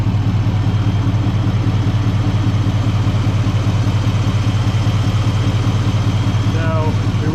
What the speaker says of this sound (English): You can actually hear the turbo just singing sitting here.